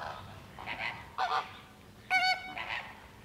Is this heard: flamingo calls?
yes